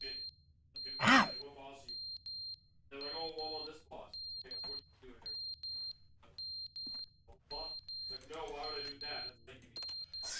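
Repeated electronic alarm beeps in The Stanley Parable, a high, regular pulse sounding again and again, with a person talking and reacting over it.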